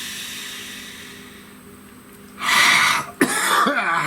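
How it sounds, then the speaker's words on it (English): A person coughing after burning a lot of sage: a faint hissy room tone, then a loud close cough burst followed by throat clearing with a brief vocal catch. "I've really been coughing this morning."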